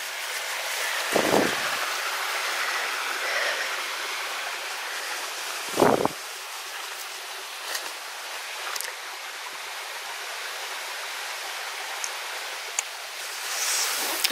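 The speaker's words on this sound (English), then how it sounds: "The water coming down." Water rushes steadily like a flowing stream, a constant close hiss with a couple of brief thumps partway through.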